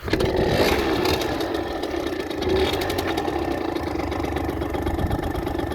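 A 2010 Derbi Senda 50cc motorcycle engine runs steadily at a close, even idle with a slight rattle, holding a constant rough hum throughout.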